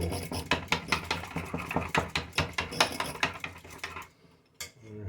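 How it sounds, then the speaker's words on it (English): Rapid rhythmic whisking in a bowl while preparing a breakfast casserole, a steady run of scraping clinks for about four seconds before it stops, with a faint knock near the end and no talking. "Got it whisked up"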